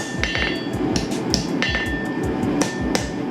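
Hammer blows on thin steel sheet over an anvil, rolling it into a conical socket for a crossbow bolt: rapid, steady, ringing metallic strikes close by, about three per second.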